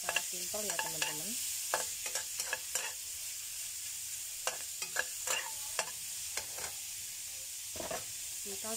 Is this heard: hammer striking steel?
no